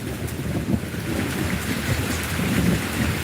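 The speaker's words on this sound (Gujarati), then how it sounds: "મારા ગામની અંદર એટલો વરસાદ પડે ઓ વરસાદ પડ્યા ઓ વરસાદ પડ્યા બરાબર વરસાદ પડ્યા વીજળીને કડાકા" Heavy rain with thunder pounding down on a village in Anand, Gujarat, a dense steady hiss with deep rumbling underneath, loud and close throughout.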